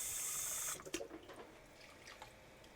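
A kitchen tap runs water into a pot to soak food, a steady rush that stops abruptly, followed by faint drips, clinks and handling sounds.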